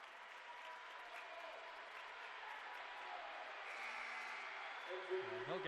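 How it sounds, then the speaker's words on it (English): A crowd at a basketball game gives steady, sustained applause for a player leaving the court. The clapping is faint and distant and holds at an even level, with a voice rising briefly near the end. "And he'll get a hand from the crowd."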